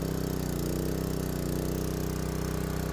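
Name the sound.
small petrol engine running on pressure washer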